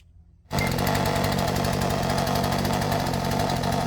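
A chainsaw fitted with a new carburetor starts up and idles right next to the microphone, a loud, steady, rapidly pulsing two-stroke engine rattle that holds even throughout.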